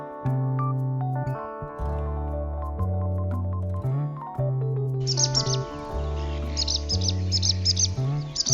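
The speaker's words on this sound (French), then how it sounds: "bergeronnette printanière, nous salue tous les jours en appelant à la fenêtre" A yellow wagtail calls near a window in short chirps, the bird notes entering partway through over a steady backdrop of loud music.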